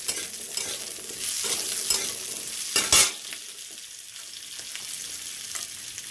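Cut potatoes tipped into a hot frying pan set off a steady, close sizzle with stirring scrapes, plus a brief louder burst near the middle; no voices.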